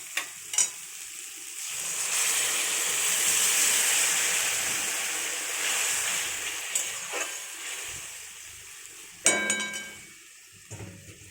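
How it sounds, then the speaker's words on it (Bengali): Water poured into a pan of fried spices for a fish curry sets off a loud, swelling hiss and bubbling sizzle that slowly fades, with clinks of a utensil against the pan and a scraping stir near the end. "এবার আমি এর মধ্যে জলটা দিয়ে দেবো"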